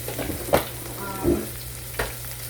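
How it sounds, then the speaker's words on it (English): Onion fries in a pan with a steady soft sizzle, with a few stirring knocks and scrapes close by. "I'm going to add my onion in my pan"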